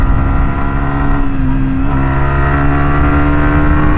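Yamaha R15 2017 motorcycle with its VVA engaged, the engine revving hard and steady at high pitch throughout, loud and close, with a harmonic drone that rises and holds during cornering.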